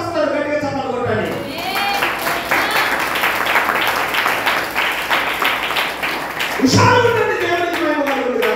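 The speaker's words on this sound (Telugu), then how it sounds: "గట్టిగా చప్పట్లు కొట్టండి." A church congregation at a communion service claps loudly and continuously in a dense burst, while a voice speaks over the applause at its start and end.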